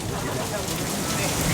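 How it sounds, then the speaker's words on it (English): Steady wash of heavy rain pouring down during a fierce storm at Busch Gardens, a dense continuous hiss with no breaks, constant and fairly loud throughout. "This is definitely one of the craziest storms I've been in a while."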